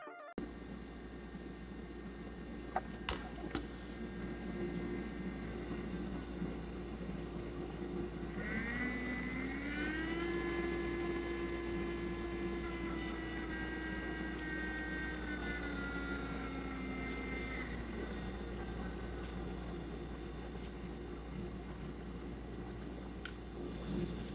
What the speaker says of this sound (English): Here is how it sounds at different RPM levels.